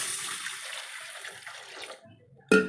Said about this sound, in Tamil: நமக்கு குழம்பு எந்த அளவுக்கு தேவையோ அந்த அளவுக்கு தண்ணி சேர்த்துக்கலாங்க.